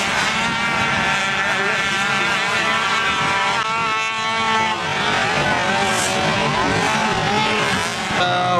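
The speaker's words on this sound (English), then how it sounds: "That's race number 7 on the racetrack right now, the 90 CVT 8 to 15-year-old class." Small 90cc CVT mini quad ATVs racing in an 8-to-15-year-old class on a motocross track, engines whining steadily and continuously at mid distance with rising and falling pitch as they pass.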